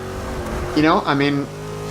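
A front mid-engine supercar in Forza Motorsport 7 revs sharply in two quick rising bursts, loud and close, over a low engine idle.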